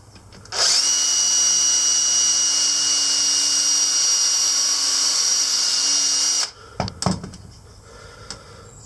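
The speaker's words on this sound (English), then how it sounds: "we want to drill pilot holes here and here so that it can be fixed together" A power drill whines loudly at a steady high pitch for several seconds while drilling pilot holes in a form, then stops abruptly, followed by a few clunks and knocks nearby.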